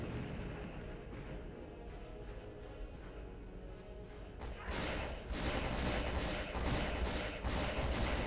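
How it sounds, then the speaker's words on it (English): Rapid volleys of gunfire in Return to Castle Wolfenstein: Tides of War, muffled at first and then turning louder and denser halfway through, a sustained crackling fusillade with dense low rumble. "I'm shooting right on him"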